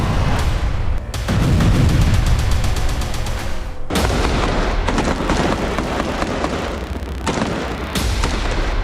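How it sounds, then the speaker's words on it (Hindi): Israel Defense Forces soldiers firing in Gaza, loud rapid bursts of gunfire crackling almost continuously with brief gaps, close and harsh, with no voices. "इजराइल डिफेंस फोर्स के जवानों ने ताबड़तोड़ फायरिंग कर दहला दी"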